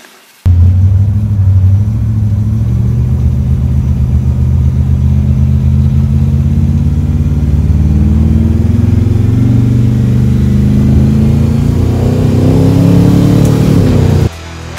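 A Ford Falcon XY with a 410ci Cleveland stroker V8 rumbles loudly and continuously as it drives, its deep engine note rising and falling with throttle before cutting off near the end.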